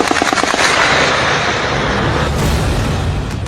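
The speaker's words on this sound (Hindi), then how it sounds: "मुजफ्फराबाद के नीलम ब्रिज इलाके में ओपन फायरिंग हुई।" Dense, rapid bursts of gunfire crackle during open firing on protesters at the Neelam Bridge area of Muzaffarabad, loud overlapping shots and booms rattling nonstop under a roaring crowd-like din, with no clear voices.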